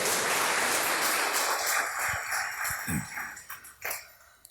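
Congregation clapping for the Lord in a Spanish-language church service, a loud burst that thins and fades out, broken by scattered coughs and throat clearing near the end.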